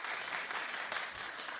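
A daytime talk show studio audience claps in a steady, dense burst of applause that holds at an even level throughout, with no voices over it.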